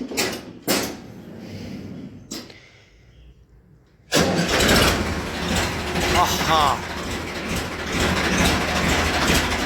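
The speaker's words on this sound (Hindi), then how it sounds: "वाह, क्या शानदार आवाज है फोर्ड की।" A Ford tractor gives a few clunks, then its engine catches with a sudden loud roar and settles into a steady, rough running rumble, close by, with a short exclamation from a man.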